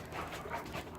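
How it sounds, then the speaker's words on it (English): A dog pants and whimpers close by in a short, breathy burst of rapid huffs mixed with soft whining. "I apologize for my dog."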